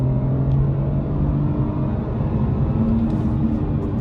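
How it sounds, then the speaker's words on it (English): A BMW 2 Series Gran Coupe engine revs hard in second gear, a steady loud rumble rising as the car accelerates toward redline, heard continuously from inside the cabin. "Hearing the engine purr and roar on its way up."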